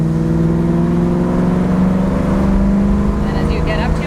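A 1981 Chevrolet Camaro with a 350 crate V8 revs hard, a loud, steady, throaty engine roar held close up while a person talks over it.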